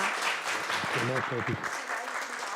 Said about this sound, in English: And one more round of applause for Dick Ryan.